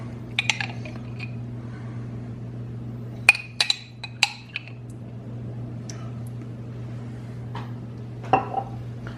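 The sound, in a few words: spoon spreading raspberry jam in Bakewell tart pastry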